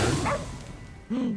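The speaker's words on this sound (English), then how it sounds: "What is he barking at?" A dog in the game Ghostwire: Tokyo gives a short bark near the start and another a second later, close and moderately loud, with whooshy game ambience between.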